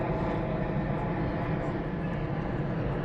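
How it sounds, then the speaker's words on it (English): An Airbus A380 jet flies overhead near Richmond, London, a steady broadband roar that holds constant and fairly loud throughout with no talk over it. "I think that's an A380 jet."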